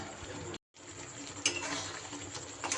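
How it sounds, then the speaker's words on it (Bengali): A pot of sweet-sour mango pickle with jaggery being stirred, with steady scraping and clinking of a spoon against the pot, a brief silent gap near the start and a sharper knock midway. "এইভাবে নাড়িয়ে নাড়িয়ে এটা আচারটা তৈরি করতে হবে"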